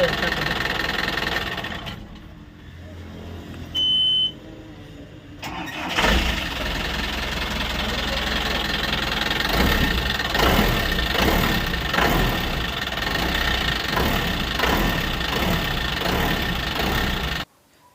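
A coach van's engine cranks and catches after a short quiet gap, then settles into a steady, rattling idle close by before cutting off at the end.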